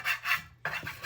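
Silicone whisk scraping rice around a pan, a few quick close scratchy strokes in a soft rhythmic pattern.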